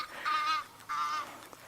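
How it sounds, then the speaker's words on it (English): Egyptian geese give two loud, harsh alarm honks in quick succession beside an African river at sunset, each squawk lasting about a third of a second, with quiet outdoor ambience between and after the calls. "You might be able to hear the Egyptian geese squawking at us."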